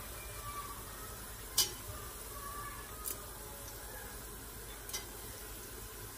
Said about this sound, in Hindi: और इसे 1 मिनट के लिए इसे भून लेंगे ताकि इन मसालों की स्मेल इसमें अच्छी तरह से आ जाए